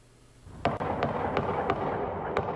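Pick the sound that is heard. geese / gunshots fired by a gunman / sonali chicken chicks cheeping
gunshots fired by a gunman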